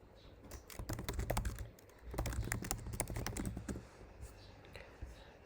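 Keys tapped on a computer keyboard in quick bursts of clicks, two main runs of typing separated by a short pause, fairly close and clear with a low background hum.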